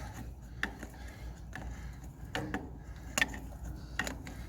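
An adjustable wrench works a bolt on a Ferguson 35 tractor, giving faint, irregular metallic ratcheting clicks and scrapes over a low background hum.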